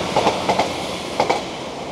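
A train running at Ardwick station, with a steady rumbling roar and clickety-clack wheel beats in paired bursts as carriages pass over rail joints.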